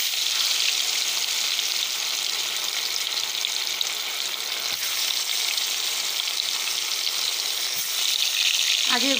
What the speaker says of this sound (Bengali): কড়াইয়ে তেল দিয়ে দিয়েছিলাম, তেলটা আমার গরম হয়ে গিয়েছে। এবার মাছগুলো দিয়ে দিব।